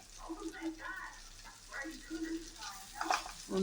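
Cumin seeds sizzle in a pan of Vijayawada-style kovakkai (ivy gourd) chutney, a soft frying hiss with stirring scrapes beneath a speaking voice.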